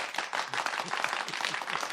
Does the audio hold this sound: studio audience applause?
yes